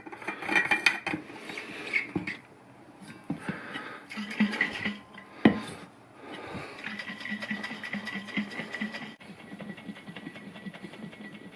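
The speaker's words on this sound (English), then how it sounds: "We're going to what they'd call a dry shake first, which obviously it's not dry, but it means no ice." Gin fizz getting a dry shake in a cocktail shaker without ice, a muffled rhythmic sloshing and rattling that runs in uneven bursts, close and moderately loud.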